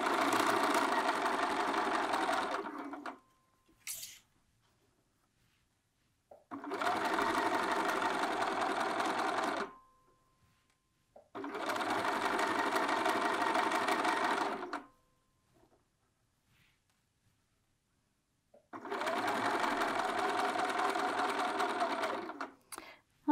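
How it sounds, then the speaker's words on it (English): A sewing machine running an edge stitch foot along a garment neckline and hem, in four sustained bursts of steady whirring stitching separated by near-silent pauses, close and loud. "now I'm going to once again use my edge stitch foot because I'm stitching against an edge"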